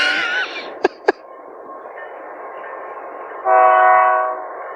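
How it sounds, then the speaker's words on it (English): A passing train rumbles faintly in the background, with two sharp brief knocks early on and a sustained horn-like tone swelling in near the end, heard without talk. "You might not hear the train, but there is a train."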